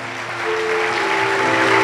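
A church congregation claps together, a dense rising patter of applause that swells and holds through the short stretch, with a faint sustained tone underneath.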